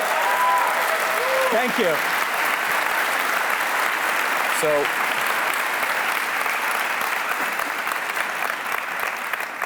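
A lecture audience applauds at the close of an entrepreneurship talk: sustained, dense clapping fills the room at steady loudness, while a speaker's voice briefly comes through over it.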